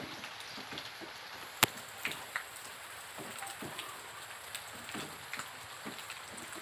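Light rain pattering under an overcast sky at a grasshopper-rearing farm, a steady soft hiss with scattered drop ticks and one sharp click, faint and continuous with no voices.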